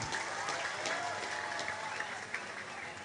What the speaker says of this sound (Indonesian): tepuk tangan buat Cici Faramida